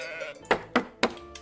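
Sheep on a sheep farm in the Let Them Trade video game bleat three times in quick succession, short and fairly soft, with no talk over them.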